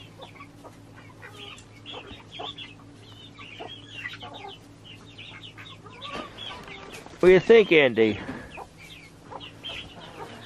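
Chickens cluck softly and steadily in a coop bedded with wood shavings, rising to a louder burst of squawking clucks near the end, with a person speaking briefly.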